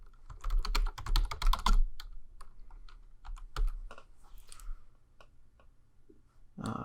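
Clicky computer keyboard keys tapped in quick bursts while a password is entered, close and fairly quiet, with short pauses between clusters of keystrokes.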